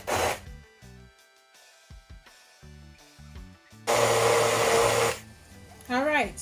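A blender pulsing sorrel and fruit for a Jamaican black fruit Christmas cake, with short stop-start bursts of whirring, one long loud burst midway, and quieter gaps between.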